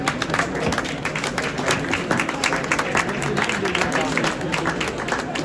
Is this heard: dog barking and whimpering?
no